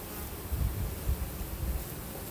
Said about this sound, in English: There's definitely more bees.